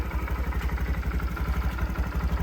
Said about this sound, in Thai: เครื่องยนต์นะครับพอผมกดปุ่มสตาร์ทปุ๊บนะครับติดง่ายเลยนะครับ